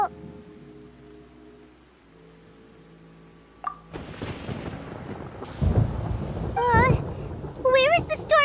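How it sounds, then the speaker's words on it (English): Thunder rumbles in the video game Genshin Impact, a low boom rolling in partway through, with game voices and effects over it. "Paimon hears thunder!"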